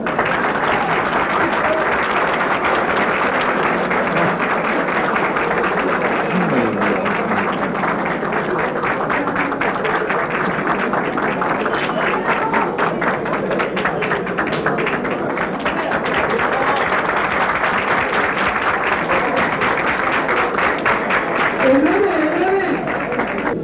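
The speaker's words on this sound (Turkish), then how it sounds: "Alkışlarınızla." Long, sustained audience applause at a ceremony for the 1984 Rothmans Bravo International Rally, dense clapping throughout with voices and a steady crowd murmur beneath.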